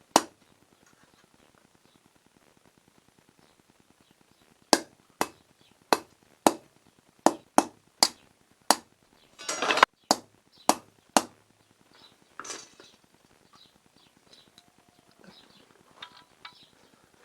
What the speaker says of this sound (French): Maintenant, avec le pointeau, hop, frapper là où je veux que mes trous se fassent.